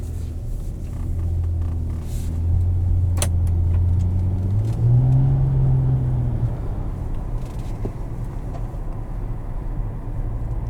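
A 2021 Nissan Maxima 40th Anniversary Edition Platinum driving in sport mode, heard from inside as a steady low engine drone that rises in pitch as it accelerates, then settles into road rumble.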